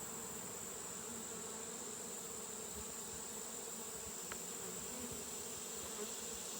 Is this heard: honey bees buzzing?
yes